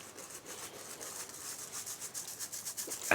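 Hands rub fat into flour, baking powder, salt and a pinch of cayenne in a bowl, a soft continuous gritty rubbing close up with a gentle rhythmic pulse.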